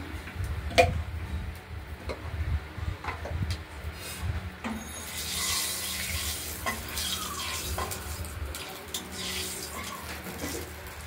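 Cumin seeds frying lightly in oil for a Bengali fish and potato curry, a soft steady sizzle with scattered small pops and a stirring scrape, close by and heard alone without talk.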